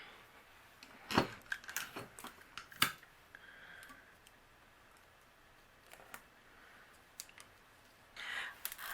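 Paper being die cut for a cupcake base background, heard as a few sharp, close clicks and crunches scattered between quiet stretches, with a brief rustling burst near the end.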